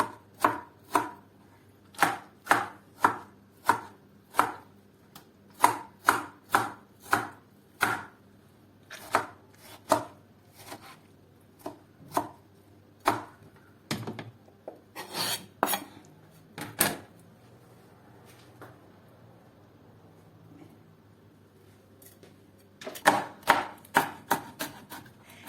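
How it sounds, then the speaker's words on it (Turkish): Repeated knife chops through tomatoes on a cutting board, steady bursts of quick strikes with short pauses, a quieter stretch, then a final flurry of chopping. "İkinci domatesimizi doğrayacağız."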